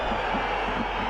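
Stadium crowd at a third-division football match between 1860 Munich and FC Bayern Munich II, a steady roar of voices and whistles swelling as fans call for a free kick.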